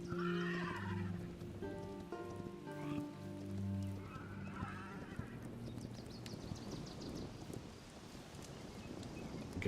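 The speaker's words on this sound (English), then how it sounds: "Catch the horse and ride it." A horse whinnies in the Hytale video game, a high neigh rising over steady rain-like patter, then fading as the rain and ambient noise carry on alone.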